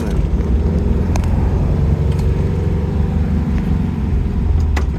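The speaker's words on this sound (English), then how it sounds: "So, oh yeah. All right, so we got the engine running today." A 1964 VW Beetle engine, freshly revived after decades, runs steadily while the car drives in second gear, a continuous low rumbling drone with a few faint clicks, fairly loud and with no talking.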